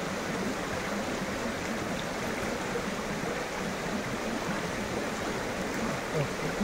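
Water from a hill stream pours down a small waterfall in a constant, dense rushing wash, steady and close, with no clear voices over it.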